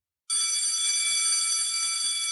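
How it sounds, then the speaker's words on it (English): A bell rings to signal that an online teaching session is nearly over, a bright sustained electronic ring starting abruptly after a short silence and holding steady to the end, with no talk. "The bell you just heard means we're almost out of time."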